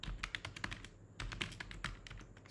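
Computer keyboard keys being pressed, including Ctrl and Space, while coding in Eclipse. A quick, uneven run of close plastic clicks and taps with no speech.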